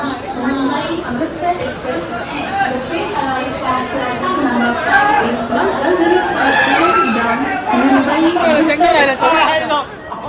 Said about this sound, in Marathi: जनरलला गर्दी बघा